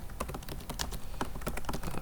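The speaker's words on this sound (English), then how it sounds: "So I'm going to go type that one out." Keystrokes on a computer keyboard come in an irregular run of sharp, close clicks as someone types an email address into a REST client, with no talking.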